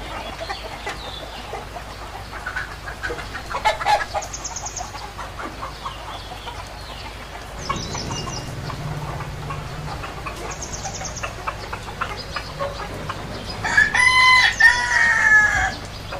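Roosters crow repeatedly in a backyard coop, several drawn-out cock-a-doodle-doo calls spaced across the stretch, with softer clucking from chickens between them and a louder, closer burst of crowing near the end.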